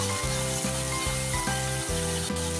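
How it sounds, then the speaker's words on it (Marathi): Chopped onions sauté in an oil-filled pan for a kaleji (liver) masala, giving a steady, continuous sizzle over a droning, pulsing tonal hum that persists throughout. "छान कांदे परतवा"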